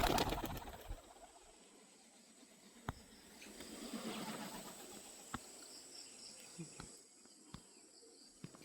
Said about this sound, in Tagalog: So kaya natutuwa yung mga kalapati dito mga kap.